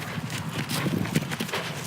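Ridden horse's hooves clip-clopping in a steady, close rhythm over a loud, dense background, with no clear talking.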